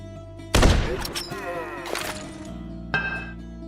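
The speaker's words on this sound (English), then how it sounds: "That's a grenade." Grenade blast in a video game: a sudden loud broadband burst followed by a decaying rumble and scattered impact cracks, with a second sharper hit near the end, over a steady game hum.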